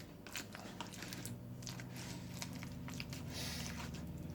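Garlic butter being mixed for garlic bread, soft close squishing and smearing with wet little clicks over a steady low background hum, no talking.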